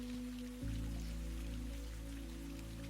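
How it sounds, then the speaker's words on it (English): Soft rain falls steadily at a gentle, quiet level over a bedtime scene outside a cozy bookshop, with low humming tones beneath it. "Listen to the rain fall softly as Oliver tends his beloved bookshop"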